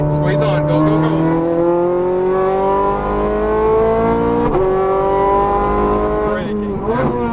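Ferrari 430 Scuderia accelerating hard on a race track at Las Vegas, a loud rising engine howl climbing through the revs with a gear change midway, heard from inside the car under an instructor's talk.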